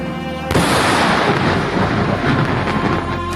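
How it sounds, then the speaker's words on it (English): An airstrike explosion in Lebanon erupts suddenly as a loud, broad blast, then rolls on as a dense, sustained rumble for several seconds. "Just a very quick video clip of a number of the airstrikes since Monday, just to show the ferocity."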